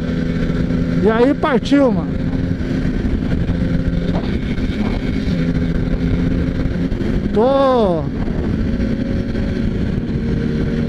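Small motorcycles ride along a road near São José, engines droning steadily with two passing machines revving up and down in pitch; someone talks over the engine noise.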